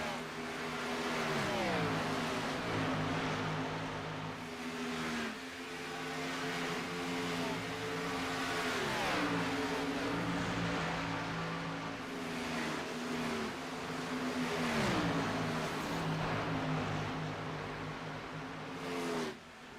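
Race cars in a racing video game at Las Vegas, several engines droning together at high revs, pitch dipping and rising as cars pass through the turns, a continuous loud roar with no pauses.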